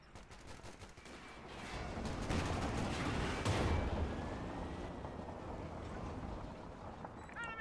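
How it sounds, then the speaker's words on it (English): A heavy boom from an M1 anti-tank gun in Company of Heroes 2 swells to a rumbling peak mid-clip amid distant battle noise and scattered shots, then fades into a low background wash. "And the M1 AT gun does find a hit"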